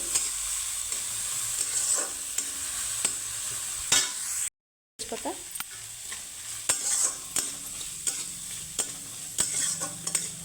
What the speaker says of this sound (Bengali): কড়াইশুটি তো দুটো দিয়ে আমি সুন্দর করে একটু ভেজে নেব